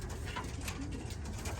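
Racing pigeons, including a Belgian Delbar, coo softly and continuously in a loft, a low burbling chorus close by with no one speaking.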